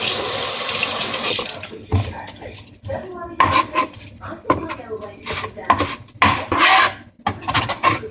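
Green onions are rinsed under a running kitchen tap, a steady hiss of water followed by irregular splashing, rubbing and wet handling sounds at a sink.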